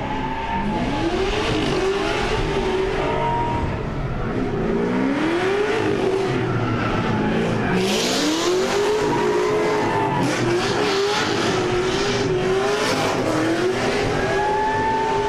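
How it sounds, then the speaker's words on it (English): A loud race car accelerates past on the track at Palm Beach International Raceway, its engine revving in repeated rising sweeps with tire noise, staying powerful and close throughout with no talk. "Sounds like we're gonna get a loud car coming."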